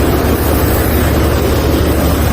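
A tractor engine works in a mustard field, a loud, continuous low rumble with a rough, wind-buffeted texture that holds steady throughout, with no voices.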